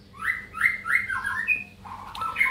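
A white-rumped shama (murai batu) calls in a series of bright, repeated whistled phrases, clear and close, each note rising and falling in quick succession against a quiet background.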